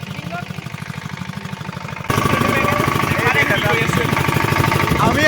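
A generator runs nearby with a steady, rhythmic low chugging pulse, becoming noticeably louder and rougher about two seconds in and holding there.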